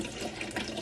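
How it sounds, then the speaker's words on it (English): Coconut water being poured into a drink, a soft continuous liquid trickle and splash, quiet and close, with no talking. "I always put in some coconut water as long as we have it"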